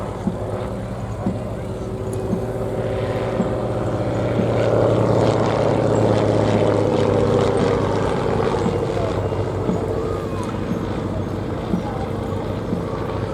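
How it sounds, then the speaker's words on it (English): A UPF-7 propeller biplane, a wartime civilian pilot training aircraft, flying at an airshow, heard as a steady droning engine note that swells and fades slightly overhead, with people talking over it. "In fact, they produced over 700 of this particular type, the UPF-7, for the civilian pilot training program"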